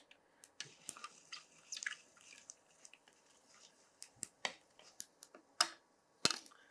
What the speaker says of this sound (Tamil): அந்த கடுகு அந்த சோம்பு அந்த பட்டை எல்லாம் வந்து பொரிஞ்சாச்சு